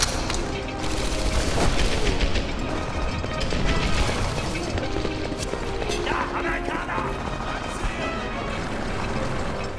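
Sustained gunfire in the Medal of Honor: Airborne flak tower level, dense bursts of automatic fire and impacts running nearly continuously at close range, with talk over much of it.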